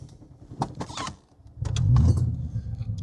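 A 1983 Audi GT5S coupe's five-cylinder engine is started: a short click and whirr of the starter, a pause, then the engine fires and settles into a close, low rumbling idle.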